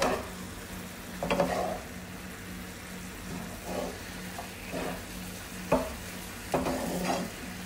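Mongolian beef with instant noodles being stirred and flipped in a hot pan, with several scraping, clattering strokes over a steady sizzle, close and fairly loud, no talking.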